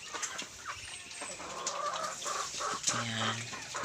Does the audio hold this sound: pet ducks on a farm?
yes